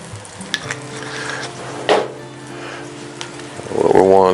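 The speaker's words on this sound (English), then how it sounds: "let that come back up to a boil and slowly stir it" Venison stew with red wine and Worcestershire being stirred in a Dutch oven at camp, a soft scraping and bubbling close by, with a brief louder clink near the middle and a rising sizzle at the end, under a faint voice.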